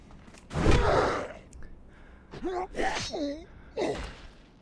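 A player wearing a VR headset and walking on a treadmill breathes heavily while playing World of Warcraft, with a loud gasp followed by several short, voiced, effortful breaths close to the microphone.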